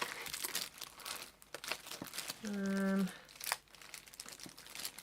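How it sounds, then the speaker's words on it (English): Rubber stamps are rummaged through in a box, with crinkling, rustling and clacking in irregular bursts close by, interrupted by a brief sustained tonal sound like a voice hum. "I'm just rustling through my box of stamps"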